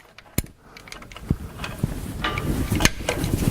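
Spanners and a ratchet undoing the bolts on the anti-roll bar clamps of a Range Rover P38, heard as scattered metallic clicks and clanks, close and fairly quiet over background noise.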